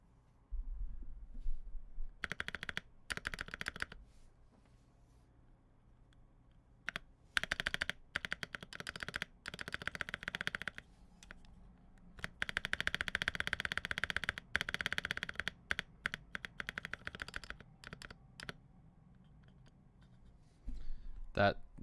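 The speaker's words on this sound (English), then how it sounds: "That knocking or ticking sound you hear is the other end of the space bar hitting the" Space bar of a Tofu mechanical keyboard fitted with an MT3 keycap set, its far end knocking and ticking against the inside of the case; quick bursts of keystrokes and taps come in several runs, close and fairly quiet.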